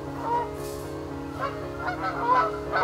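Geese honking outdoors near a paddler, a few loud calls rising over steady background noise in a short burst.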